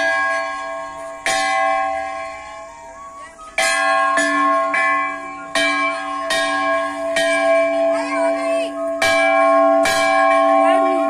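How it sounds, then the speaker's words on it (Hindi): Large temple bell at Chitai Golu Dev Mandir in Almora, struck repeatedly at irregular intervals, each loud metallic clang ringing out with a long sustained hum between strikes. "यहाँ का सबसे बड़े घंटी।"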